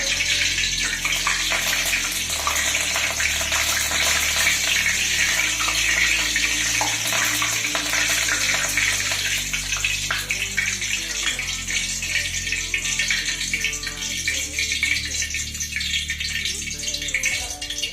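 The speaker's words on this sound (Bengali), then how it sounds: "কারি পাতা কিন্তু তেলে দিলে ভীষণ ফোটে তাই খুব সাবধানে ভাজতে হবে আস্তে আস্তে তেলে দিতে হবে ঠিক আছে কেমন ফুটছে" Curry leaves sputter and crackle in hot oil in a home kitchen, a loud, dense, continuous hiss that holds steady the whole time with no talking.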